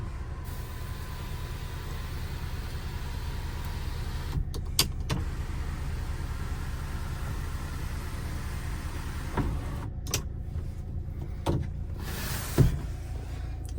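A 2019 Hyundai Creta SX Plus automatic's engine idles with a low, steady rumble inside the cabin, with a few short clicks and mechanical whirs.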